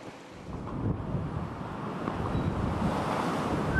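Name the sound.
rough sea and strong wind aboard a sailing ship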